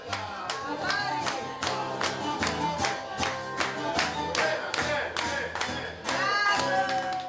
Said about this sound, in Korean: 점점 손님들도 박수를 치며 흥겨워한다.